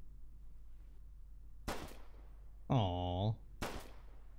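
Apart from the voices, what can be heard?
gunshots in the video game Flashing Lights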